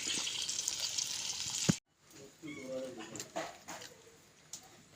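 Curry leaves and fresh coconut oil sizzle loudly in a finished fish curry for a couple of seconds, then the hiss cuts off, leaving faint kitchen clatter and quiet voices.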